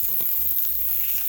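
Eggplant slices sizzle in a hot pan, a soft steady frying hiss heard close and alone for a brief moment.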